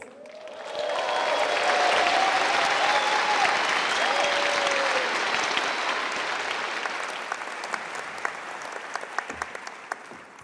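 Sustained audience applause fills a large commencement ceremony hall, rising quickly to a steady roar of many hands and then slowly tapering, with a few cheers and whoops audible near the start.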